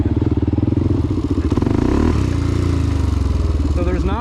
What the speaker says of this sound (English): this is just idling by itself, I'm not touching it